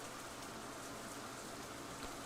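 Steady rain falls in the visual novel game Katawa Shoujo, a dense, even hiss of drops on surfaces that continues unbroken and moderately loud, with no speech over it.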